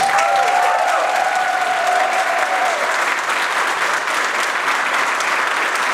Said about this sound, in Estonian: Aga suur aplaus Erikale.